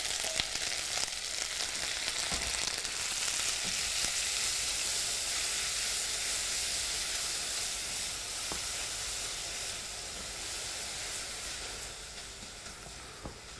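Leeks sweat in a hot pan with a continuous, fairly strong sizzling hiss that holds steady and eases slightly toward the end, with no voices.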